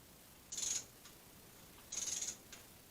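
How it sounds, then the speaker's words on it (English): Two brief ratcheting bursts from a torque wrench tightening bolts on a 2005 GMC Envoy during a water pump change, each clicking run under a second, close and fairly quiet, separated by a pause, with a faint click after each. "go grab the torque wrench and set it to 89 inch-pounds, and we will get those tightened down"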